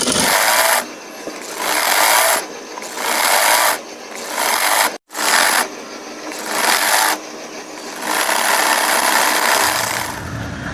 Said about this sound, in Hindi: तो इस तरह से अब इस पर सिलाई लगा देते हैं।